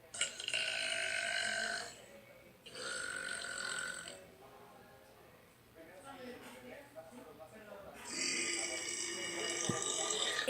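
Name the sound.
burp sound effects from a burping sounds app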